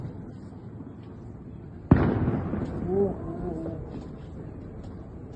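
A single sharp, loud blast is heard in Esfahan, Iran, after a stretch of low background noise, followed by a rumbling tail and faint voices.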